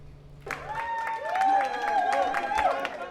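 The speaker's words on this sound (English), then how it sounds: "Crew members and passengers cheering this trip aboard the Celebrity Edge" Passengers and crew cheering and clapping aboard the cruise ship Celebrity Edge, a crowd burst of applause with whoops and shouts, loud and sustained.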